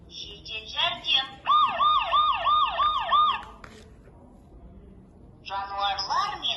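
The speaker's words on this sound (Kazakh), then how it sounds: "Жедел жәрдем." An ambulance siren wails in rising and falling electronic sweeps, loud and close, pausing briefly before starting up again.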